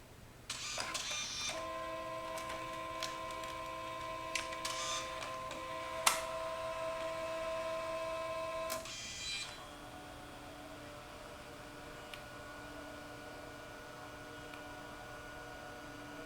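Home inkjet-style printer outputting a photo sent from Adobe Photoshop, its cover slightly faulty: a steady mechanical whir with sustained motor tones and occasional clicks for about eight seconds, then a quieter running hum as printing continues.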